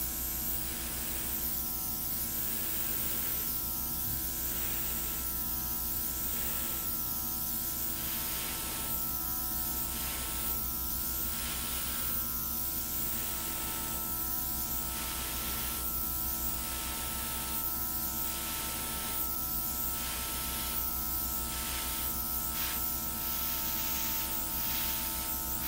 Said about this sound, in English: And here is my airbrush.